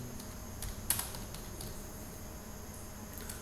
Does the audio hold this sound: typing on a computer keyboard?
yes